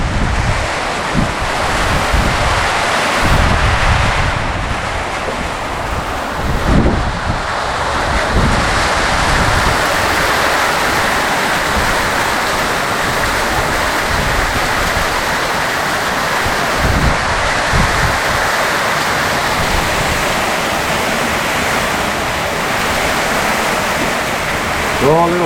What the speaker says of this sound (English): it's pouring rain again, and there's even a little hail in it